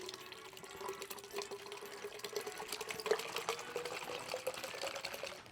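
Seven cups of ice-cold water pour steadily into a container for lemonade, a continuous splashing flow at close range with a faint hum underneath and no talking.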